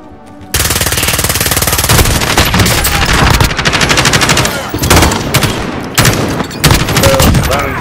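Rapid, sustained automatic fire from a weapon in Call of Duty on Rebirth Island, loud and close, with a fast continuous rhythm broken by a few brief pauses.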